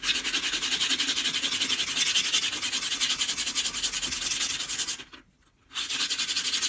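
Rapid rhythmic rasping of a sanding stick scrubbing back and forth against a metal jewelry piece, close and steady, pausing briefly before resuming.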